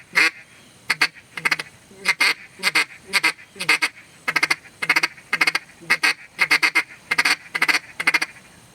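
A handheld duck call imitates feeding ducks with a rapid, intermittent chatter of short quacking notes in quick clusters, close and loud, repeating steadily without talk.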